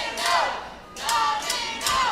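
Crowd at a CCW wrestling show in Miami, Florida, roaring in repeated surges, swelling and easing in loud waves about every second, with no one speaking.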